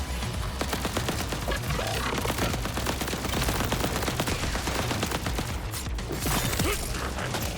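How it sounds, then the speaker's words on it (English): Rapid, steady gunfire from a pistol in Borderlands 4 runs almost continuously, with crisp repeated shots over busy game sound and no talk. "let's try this pistol out"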